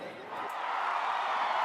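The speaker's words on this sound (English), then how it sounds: "sporadic cheering," An outdoor crowd cheering and whooping now and then, a soft, distant wash that slowly swells louder over a steady murmur.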